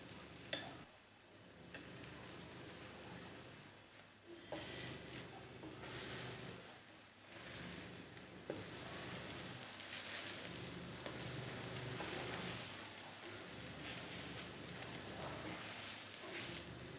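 Brinjal (eggplant) slices frying on a hot tawa give a steady close sizzle, with stirring and scraping clatter on and off throughout.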